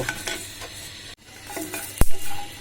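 Dried red chilies sizzle in hot oil while being stirred, a soft steady crackle with a sharp metallic clank near the end.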